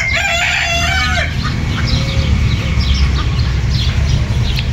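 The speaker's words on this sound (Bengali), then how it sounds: "বাহ, খুব সুন্দর ডাকও দিচ্ছে এটা। আরও মুরগি রয়েছে ওইদিকে।" A rooster crows loudly and close by in Baris Park in Kyrenia, Cyprus. One clear crow comes at the start, then a fainter call follows over steady outdoor background noise.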